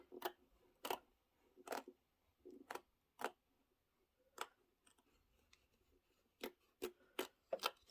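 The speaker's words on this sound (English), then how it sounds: "The snips, I think, are the perfect scissors for one layer." Snips scissors cut through a single layer of fabric in quiet, crisp snips that come one at a time and in small clusters with short gaps between them.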